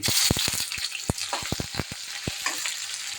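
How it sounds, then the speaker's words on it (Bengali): Chopped onion and garlic sizzle in hot oil with bay leaf, cardamom, cinnamon and peppercorns, a steady crackling fry punctuated by sharp scrapes and taps of a stirring spoon. "পেঁয়াজটা একটু হালকা ব্রাউন কালার করে ভেজে নেবো"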